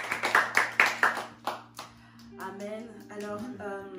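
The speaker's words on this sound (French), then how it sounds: "Est-ce qu'on peut acclamer le serviteur du Seigneur?" A church congregation claps for the preacher in a quick, rhythmic run of loud claps lasting over a second. Voices then rise and carry on without the clapping.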